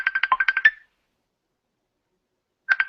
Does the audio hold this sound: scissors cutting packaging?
no